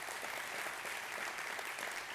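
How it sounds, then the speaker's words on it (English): An audience claps and cheers in a sustained, even burst of applause heard from within the crowd, dense and continuous throughout. "Let's give them a good cheer."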